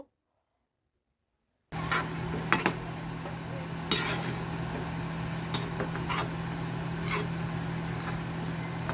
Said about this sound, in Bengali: আমি দু থেকে তিন মিনিট এই মতিচুরগুলোকে চিনি শিরার মধ্যে ভালো করে ফুটিয়ে নেব আর ধীরে ধীরে নাড়তে থাকবো